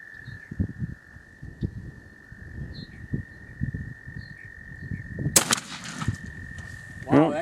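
A Browning B80 20 gauge shotgun firing a 3-inch 1 1/4 oz number 5 Kent diamond shot turkey load outdoors: a single sharp, loud blast after quiet rustling and a steady tone, followed by a short burst of noise.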